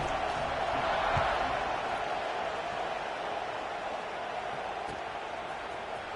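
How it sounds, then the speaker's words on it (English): Football stadium crowd buzzing after a score, a steady broad roar of many distant voices sustained throughout with little variation. "this crowd is buzzing after that last score"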